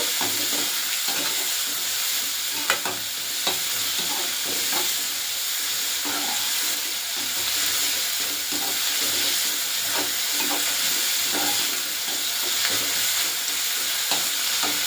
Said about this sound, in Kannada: ಸ್ವಲ್ಪ ಹಸಿ ವಾಸನೆ ಹೋಗೋವರೆಗೂ ಫ್ರೈ ಮಾಡ್ಕೊಳ್ಳೋಣ